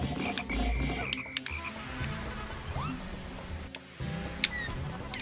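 Frog enemy croaking in the Pikmin video game, several deep croaks and chirps spread over a few seconds amid game clicks and ambience, fairly close and moderately loud, with no talk.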